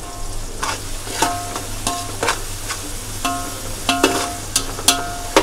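Onion frying in a pan with a spoonful of salt, a steady close sizzle broken by repeated scraping strokes of a spoon stirring and knocking against the pan, with no one talking.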